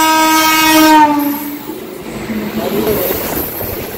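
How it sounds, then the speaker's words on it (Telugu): A loud goods train horn blares close by, fading as the goods train rumbles and clatters past. "సూపర్ ఫాస్ట్ ఎక్స్ప్రెస్ కోసం కాదు, ఈ గూడ్స్ ట్రైన్ కోసం"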